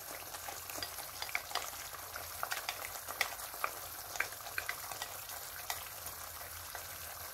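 Yogurt stirred into Kashmiri chicken gravy frying in oil, a faint bubbling sizzle with frequent small spoon clicks and scrapes throughout.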